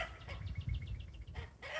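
A rooster clucks nearby outdoors in a quick run of soft, repeated clucks, with a brief pause before the sound starts again.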